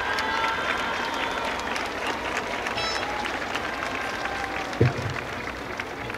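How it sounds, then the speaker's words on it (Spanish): Festival audience applauding, a steady dense wash of clapping from a sizeable crowd that holds for several seconds, with a brief thump near the end and faint voices in the mix. "ese aplauso es para mi diamante, más fuerte, más bonito, que se escuche"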